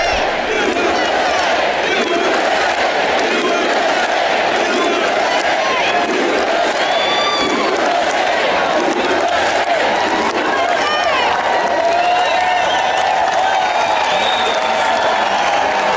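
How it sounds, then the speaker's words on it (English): A large rally crowd for Donald Trump roars continuously, with dense cheering and shouted chanting blending into one steady wall of noise that stays loud throughout. "I want you to listen to a little bit of the crowd noise and how people are responding to Donald Trump."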